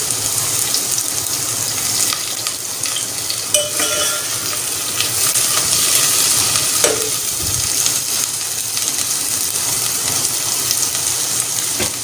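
Onions sizzle and crackle steadily in a hot pan over medium flame, browning, loud and close, with occasional stirring clatter throughout.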